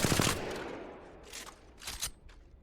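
A light ammo weapon in Apex Legends fires at a wall, a dense burst of rapid shots up front followed by a few shorter, quieter bursts, with no talking.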